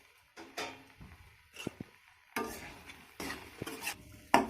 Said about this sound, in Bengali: আর মশলাটাকে এভাবেই কষিয়ে নিতে হবে।